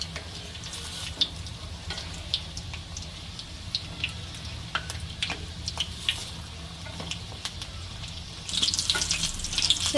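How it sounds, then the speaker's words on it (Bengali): Corn snacks fry in hot oil in a wok with a soft, steady sizzle and occasional sharp crackles and utensil taps, quiet overall and growing louder and busier near the end. "এরকম করে ভেজে নেব।"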